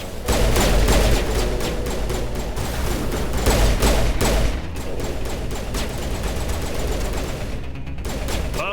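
Sustained, dense automatic gunfire from the video game Mass Effect, loud and continuous with booming impacts, easing slightly partway through but never stopping.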